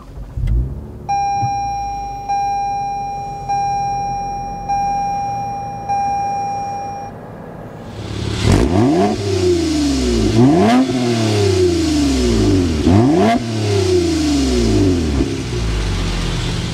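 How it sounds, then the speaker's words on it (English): A 2024 Toyota Camry TRD's 301-horsepower V6 cranks and fires up after a series of chimes, then revs repeatedly with a deep, throaty cat-back exhaust note, loud and close. "start up this V6, 301 horsepower, so you can hear that cat-back exhaust note"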